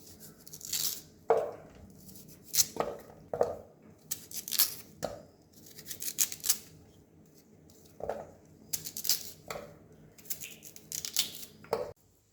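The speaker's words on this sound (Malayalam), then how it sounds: "ഇനി അടുത്തതായിട്ട് നമുക്ക് ചേമ്പൊന്ന് നുറുക്കിയെടുക്കാം" Taro (chembu) being chopped into pieces, a run of crisp knife strokes in short bursts with brief pauses between them, close up and with no talking.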